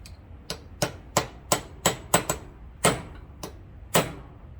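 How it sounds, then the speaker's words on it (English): A hammer taps a punch against a wire during a Ford tractor ram rebuild. About a dozen sharp metallic strikes ring out close by in an uneven rhythm, with no talk. "Back to tapping the wire with the punch."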